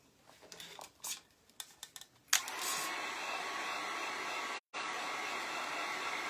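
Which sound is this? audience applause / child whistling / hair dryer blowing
hair dryer blowing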